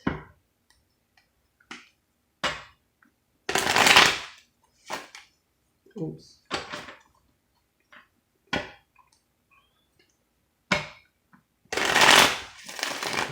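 Playing cards are shuffled by hand in several quick bursts of riffling and snapping, separated by short silences, close and fairly loud, with a brief spoken word in between.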